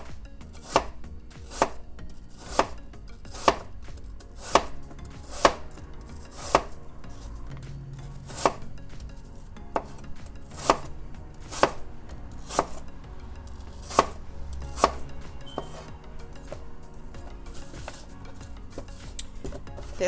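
A knife slices apples for cobbler on a cutting board, crisp regular chops landing close and clear roughly every second.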